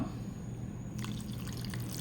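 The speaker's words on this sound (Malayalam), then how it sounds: "കുറച്ച് വെള്ളം ഒഴിച്ചു കൊടുക്കാം." Water trickles and drips into a chutney mixture after salt is added, a light pouring patter that grows busier halfway through over a steady low hum.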